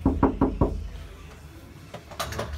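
Four quick knuckle knocks on a large, hollow Toyota Highlander door with its trim stripped away, sounding empty and resonant, followed by a few softer taps and clunks; no talking.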